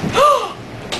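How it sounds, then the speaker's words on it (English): A fire lookout structure lifting and dropping in a windstorm gives a single heavy slam and thud, loud and close, with a rising creak, then a sharper knock about a second later. "That was the thing lifting up and dropping down."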